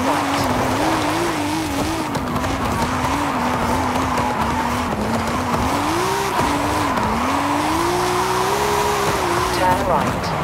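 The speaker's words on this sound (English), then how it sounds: "Hit that drift zone!" A car drifts in the Forza Horizon 5 racing game, its engine droning and wavering in pitch while tires squeal almost continuously, with a voice talking over it.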